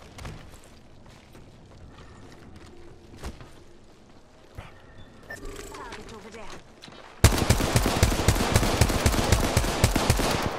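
Apex Legends gunfire: scattered shots and clatter over quieter moments with some voices, then a sudden loud burst of dense, rapid automatic fire.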